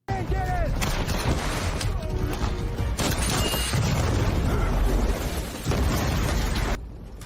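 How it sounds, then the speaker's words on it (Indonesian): A gunshot striking a 12 kg gas tank and a camper van exploding, loud booming blasts and bursts of gunfire in rapid succession, with dense rumbling debris and abrupt cuts between hits. "dan saat ia hendak menembak Seamus, tidak sengaja tembakannya justru mengenai gas 12 kilo yang akhirnya meledakkan camper van itu."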